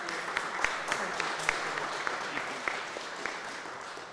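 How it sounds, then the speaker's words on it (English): Applause from an audience at an outdoor public event in 110-degree heat, steady broadband clapping with a few sharper individual claps standing out, holding fairly even for about four seconds. "Please give her a warm round of applause."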